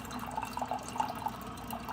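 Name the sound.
Joydeem hot water dispenser pouring hot water into glass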